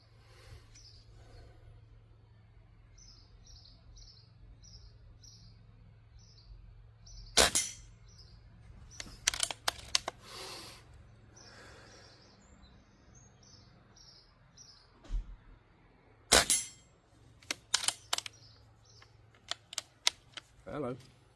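A budget .177 sub-12 air rifle fires JSB slugs outdoors: several sharp, snappy cracks in separate bursts, each followed by a short rattle or knock, with birds chirping and a low steady hum in the background.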